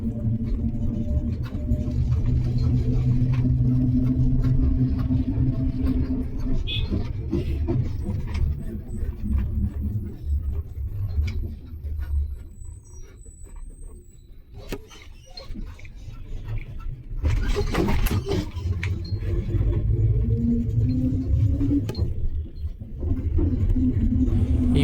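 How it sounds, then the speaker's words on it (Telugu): Bus in Bus Simulator Indonesia driven fast over speed breakers without braking: continuous low engine rumble with bumps and rattling jolts, a dip in the middle, then the drone returns. "స్పీడ్ బ్రేకర్స్ మీదుగా అలాగే జంప్ చేస్తున్నాడు బస్సు."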